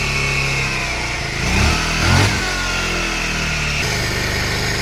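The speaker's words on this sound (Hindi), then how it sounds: "देखिए एक ही किक में गाड़ी स्टार्ट हो गया।" A Bajaj Pulsar 150 BS4 motorcycle engine with a weak battery runs steadily after a kick start, held at high RPM with a couple of brief swells in revs, loud and close throughout.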